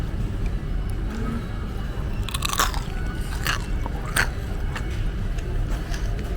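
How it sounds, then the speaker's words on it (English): Crispy roast pork skin bitten and chewed at an international buffet in a Bangkok shopping mall, a few sharp crunches close up over a steady hum of background noise. "Their skin, I don't know if you're picking up on the crunchiness."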